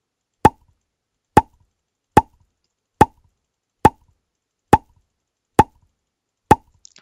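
PopCat web game pop sound effect, eight identical short plops at a steady, evenly spaced rhythm, crisp and close with silence between each.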